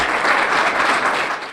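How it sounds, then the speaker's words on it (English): A crowd at an awards event for unsung heroes breaks into loud, dense applause, the clapping full and sustained for a brief moment before beginning to taper off at the end. "Please join me seriously in giving them another round of applause"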